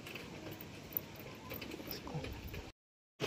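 A pair of pigeons, an Andhra Kalsira male and an Andhra Fulsira female, coo faintly at a distance. The soft murmuring runs for under three seconds before a short silence.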